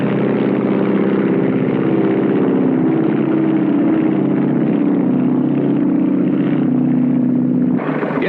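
A 1929 Lockheed aircraft piloted by Captain Frank Hawks takes off on a transcontinental record flight, its engine roaring loud and steady with a shifting drone that changes abruptly near the end.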